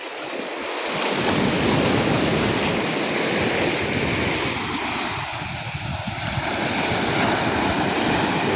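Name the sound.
sea waves coming in on shore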